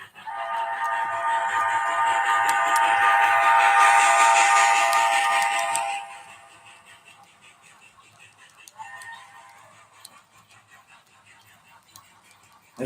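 A Dreyfus Hudson model train locomotive whistle blows one long, loud, steady tone for about six seconds, then falls away, leaving quiet background with a brief faint toot later.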